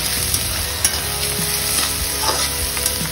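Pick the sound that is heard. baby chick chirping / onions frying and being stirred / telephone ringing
onions frying and being stirred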